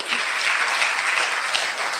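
Audience clapping at a stress relief programme in Indore welcoming arriving guests, a short, even burst of crowd applause with no voices over it.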